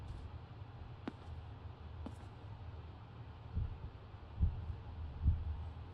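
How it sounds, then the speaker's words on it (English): A heartbeat thumps in the Phasmophobia video game during a ghost hunt, with low, muffled double beats arriving slowly and growing louder over a dark droning ambience, a couple of faint sharp clicks early on. "I hear my heartbeat."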